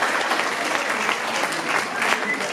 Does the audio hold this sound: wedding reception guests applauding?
yes